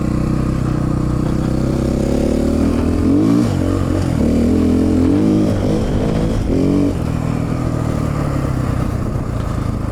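A KTM 450 Six Days dirt bike rides with a loud, steady engine drone that rises and falls as the rider revs through the throttle, close to the microphone for the full stretch.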